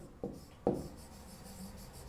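Two short marker or chalk strokes on a classroom board, close and fairly quiet, a brief scrape followed by a longer stroke, then faint room tone.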